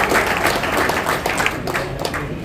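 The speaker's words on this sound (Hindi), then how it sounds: "जोरदार ताली नहीं बजाई भाई" An audience at a community gathering claps loudly and continuously, dense applause filling the whole moment with a faint murmur of crowd underneath.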